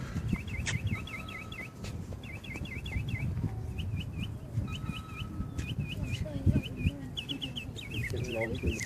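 Birds chirping outdoors near a fully solar-electric airplane in flight, with repeated short bright calls in bursts over a busy low background of wind and crowd noise and some voices.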